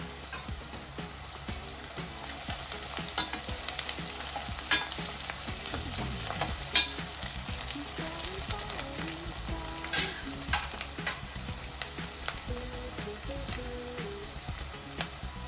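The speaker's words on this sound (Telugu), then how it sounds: "ఆనియన్స్ వేగిపోయండి" Onions sizzle and fry in a pan for mutton keema curry, a steady crackling hiss with occasional louder pops and spatters, close and continuous with no talking.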